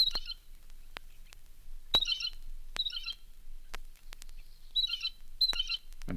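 Blue jay calls from a bird sound recording, short raspy chirping bursts repeating at irregular intervals, fairly faint against a quiet background with occasional sharp clicks.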